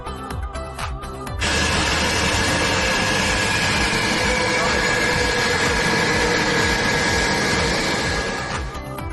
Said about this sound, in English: now it's time to feel the roar of the engines